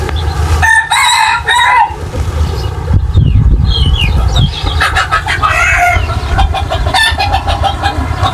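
A rooster crows loudly and repeatedly nearby, with clucking fowl and a low rumbling background mixed in.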